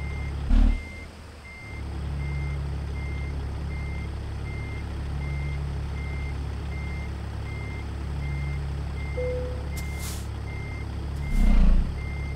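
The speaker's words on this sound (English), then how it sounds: "tight turning in here with this big old truck." A Peterbilt truck in American Truck Simulator backs up with a steady, evenly spaced reversing beep over a constant diesel idle, with a brief air-brake hiss near the start and again near the end.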